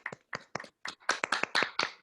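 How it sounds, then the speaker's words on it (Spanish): A small audience at a CPR and first-aid talk claps in scattered, uneven bursts. A handful of distinct, crisp hand claps sound close together over two seconds, with no voices. "Un aplauso, por favor, un aplauso"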